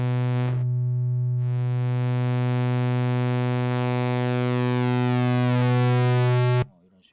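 A bright buzzy tone from a Moog Subsequent 37 synthesizer with many steady harmonics, briefly interrupted near the start, its timbre shifting slightly as the waveform changes before it stops abruptly.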